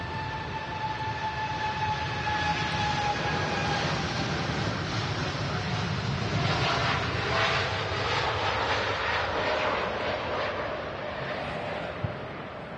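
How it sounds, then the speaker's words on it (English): A Gulf Air airliner takes off at Manchester Airport, giving a sustained, loud broadband jet roar with rising whine tones that fill the whole stretch steadily. "Oh wow, Gulf Air taking off next."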